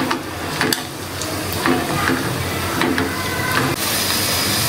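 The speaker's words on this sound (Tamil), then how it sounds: "முந்திரியெல்லாம் வறுத்து பொன்னிறமா வந்துடுச்சு" Cashews and raisins fry in ghee in a pan for milk payasam, giving a steady, close sizzle. Scraping stirs and a few sharp taps of a spoon against the pan cut through it, with no talking.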